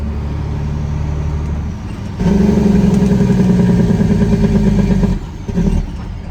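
A Peterbilt 379 truck with an 18-speed transmission shifts without the clutch: the close, steady engine note drops briefly, then picks up with a louder, lower-pitched pull, and dips again for the next shift.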